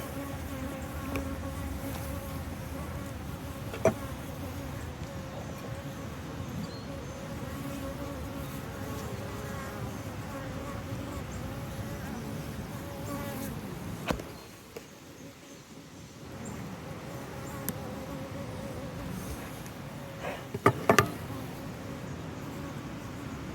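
Honey bees buzz steadily in an open hive during a swarm-prevention inspection, a close, continuous drone that keeps on through the whole stretch with only a brief dip in loudness.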